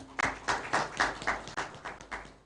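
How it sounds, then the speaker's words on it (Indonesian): Applause from an audience at a news portal launch event in Indonesia, a few short rhythmic waves of clapping from a small crowd, moderately near. "Boleh tepuk tangan."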